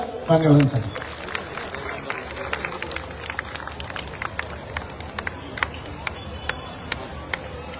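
A crowd at a political rally in Thane claps in scattered bursts after a brief loud moment, with sharp individual claps and crowd murmur continuing throughout.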